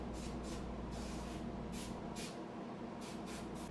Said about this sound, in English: we're going to take that outside and use the air compressor on it